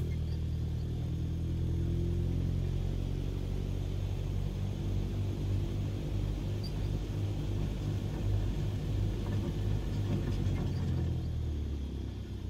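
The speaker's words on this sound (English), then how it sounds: "it's the sound of the reverberations and the vibrations of an engine" A deep, continuous engine rumble with vibrating low tones, steady and loud throughout, no voices: the engine of a Grumman AA-5B Tiger light aircraft in a flight simulator.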